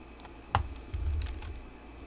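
Keyboard keystrokes on a computer keyboard: one sharp click near the start, then a short cluster of soft, dull taps, close and fairly quiet, with no talking.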